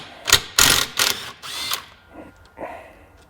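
Ratchet clicking as a 12 mm bolt is backed out of a Kawasaki KX250F dirt bike engine during a teardown, several quick bursts of close metallic pawl clicks with short pauses between them.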